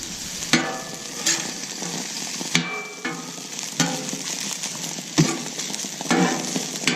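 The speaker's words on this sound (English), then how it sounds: "Give this one more stir." Rice is stirred on a hot Camp Chef 600 flat top griddle, a metal spatula scraping and clattering in repeated sharp strokes over a steady frying sizzle.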